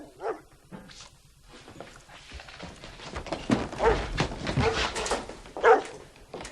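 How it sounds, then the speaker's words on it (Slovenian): A big dog barks several times in short bursts, the loudest near the end, with a few whimpering yips and thuds between them against a busy background. "kdo pa je privezal tega velikega psa?"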